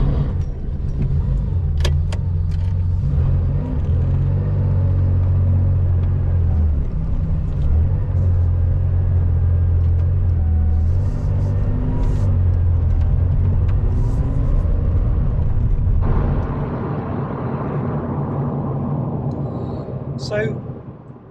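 A classic Porsche 911 3.0 SC lightweight drives on the road, its engine a loud, steady low rumble heard from inside the cabin, dropping to a lighter hum near the end.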